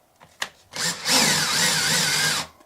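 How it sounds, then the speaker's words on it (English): A hole saw grinds steadily through an RV countertop for under two seconds, preceded by a few sharp knocks and a brief motor rev. "I'm not sure how this counter is going to react to drilling through it"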